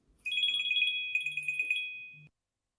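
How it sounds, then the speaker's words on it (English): A telephone rings in two clear electronic bursts with a short gap, loud and close with no talk, then stops abruptly. "I shall answer that phone."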